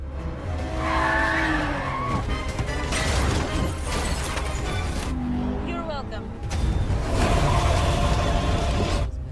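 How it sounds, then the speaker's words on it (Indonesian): Car chase from the Black Widow film with engines roaring, tires screeching and skidding, and a crashing impact midway. Music and sound effects are layered over it, and a voice speaks over the scene. "Lalu mereka mengemudi secepat mungkin untuk menghindari Taskmaster."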